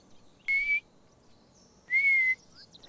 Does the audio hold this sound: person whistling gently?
yes